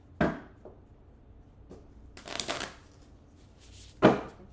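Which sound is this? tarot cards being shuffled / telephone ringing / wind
tarot cards being shuffled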